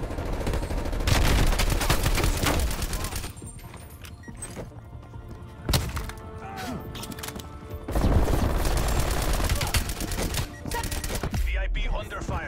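Bursts of gunfire in Call of Duty: Black Ops Cold War, loud and close, with sharp shots and heavy thumps over a constant game backdrop and quieter pauses between.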